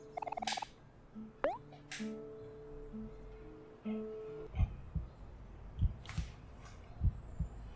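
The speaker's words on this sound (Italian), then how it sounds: "Ma che battito di cuore!" In the Omori video game, a few electronic tones and chirps give way to a low heartbeat: paired thumps repeating at an even pace, soft but distinct, with no talking.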